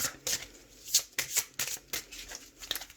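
Tarot cards being shuffled and cut, with a quick series of close, crisp riffling bursts repeating in an irregular rhythm.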